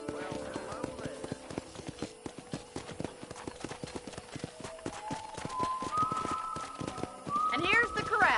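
Horse hooves clip-clop in a steady, rapid patter with a few snorts and whinnies, in a video game, while talk and soft music play over them.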